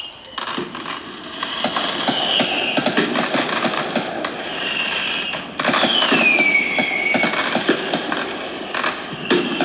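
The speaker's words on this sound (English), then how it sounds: "So this is fireworks." Fireworks pop and crackle in a dense flurry of sharp bursts and fizzing, with a whistling streak rising partway through.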